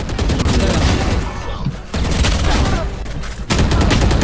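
Dense, continuous gunfire rattles through a Valorant match in loud overlapping bursts for about four seconds, with brief dips between volleys.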